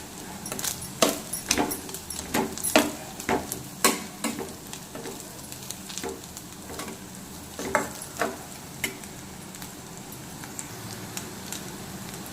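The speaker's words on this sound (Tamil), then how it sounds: "இப்போ இதை நல்லா கிளறி விட்டுக்கலாம்" Carrot and egg stir-fry with pepper powder being stirred in a pan: light frying sizzle under a run of quick metallic spatula clicks and scrapes, busier at first, then quieter.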